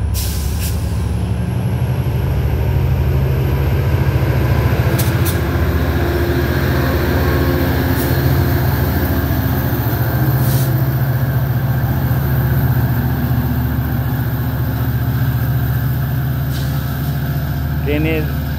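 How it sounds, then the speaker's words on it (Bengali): A two-storey diesel local train rumbles loudly as it pulls away from Prospect Heights station toward Chicago Union Station, engine droning steadily, with a rising hiss and occasional bursts of air over a voice talking. "এই যে ট্রেনটা ছেড়ে দিল"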